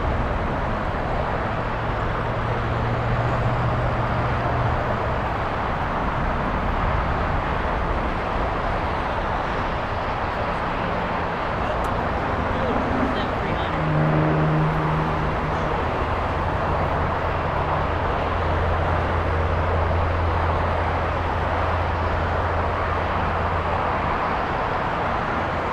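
American Airlines Dreamliner airliner at LAX lining up, a steady distant jet roar with low rumbling and broadband hiss persisting throughout the airport soundscape.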